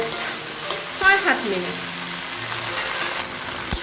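Taro flowers fry and sizzle in a pan while a spatula stirs them, a steady close hiss with scraping strokes, and someone talks over it.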